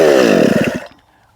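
A Stihl MS261 chainsaw fitted with an Undaunted aftermarket muffler, its spark screen still in, gives a short loud revving burst that drops quickly in pitch and cuts off into near silence.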